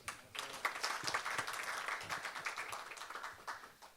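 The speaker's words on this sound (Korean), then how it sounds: "한 분 한 분 소개해 드릴 때마다 심찬 박수를 부탁드리겠습니다" Audience applause at a municipal bicycle policy forum in Seongnam, a steady round of dense clapping from a seated crowd that holds for several seconds with slight swells, moderately distant.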